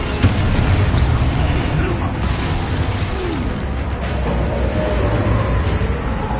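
Confringo fire spell blasts in a PS5 video game, loud booming explosions with mechanical clatter, heard amid busy combat noise and a shouting voice.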